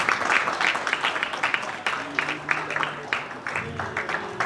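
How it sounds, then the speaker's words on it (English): A crowd claps in sustained applause after a pool (GB9 Tour) main event final in the main arena, dense and steady, with a few low voices murmuring underneath. "please give him a round of applause"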